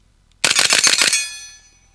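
Suppressed Colt SMG clone firing a rapid burst at steel targets, about half a second of fast muffled shots followed by a ringing metallic tail that fades over most of a second.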